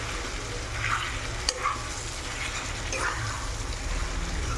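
Mango pickle frying in a wok, with soft scraping and shuffling as it is stirred and the pan shifts, a low sizzle beneath and one sharp clink partway through.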